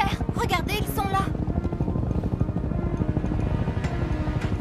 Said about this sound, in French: Vous entendez? Des hélicoptères! Regardez, ils sont là!